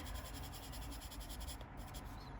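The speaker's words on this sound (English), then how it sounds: "the pastel pencils, they feel a bit, they sound scratchy on the page" Continuous soft scratching of a Faber-Castell Pitt pastel pencil moving across paper, close and steady, with a brief change in texture near the end.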